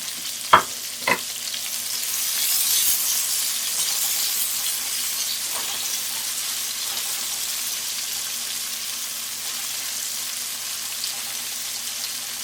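Raw onions go into hot oil already sizzling with cumin and carom seeds for an okra curry. A couple of sharp knocks come first, then a steady soft frying hiss continues at moderate level.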